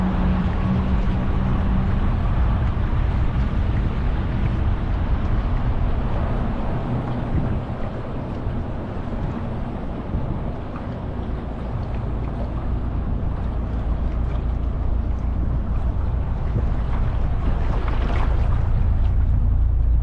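A boat with dual engines runs on the Colorado River near Hoover Dam, a steady, loud low drone with broadband rush of water and wind that holds constant throughout, with no talking.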